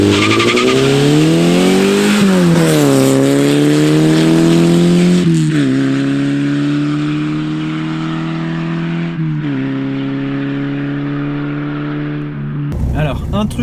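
Peugeot 205 fitted with a swapped Peugeot 405 engine revs hard, its pitch climbing and falling through several loud rising sweeps, ending with a brief clatter.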